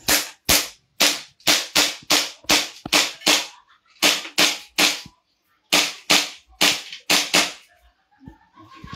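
SRC Hi-Capa airsoft pistol fired repeatedly until the magazine runs empty, heard as loud, close, sharp cracks in rapid strings of several shots separated by brief pauses, ending with a few lighter clicks.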